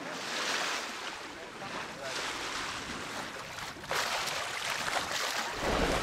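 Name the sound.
sea waves and wind while sailing a boat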